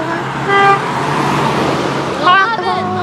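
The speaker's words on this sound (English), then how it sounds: "Let's see if we can get honk. Honk the horn, honk the horn" Two honks from a truck horn sound on a roadway, a short blast early and another near the end, loud over traffic noise with voices around.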